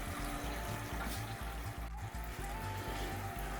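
Homebrewed pumpkin Märzen wort flows into a beer fermenter, a steady, faint trickling pour running without a break beneath a low rhythmic hum.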